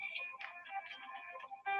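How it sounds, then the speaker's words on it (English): A mobile phone ringing with a steady electronic melodic ringtone, repeated tonal notes that continue without a break, faint and heard on its own with no talking. "excuse me, I've got my phone ringing"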